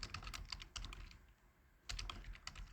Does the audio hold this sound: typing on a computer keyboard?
yes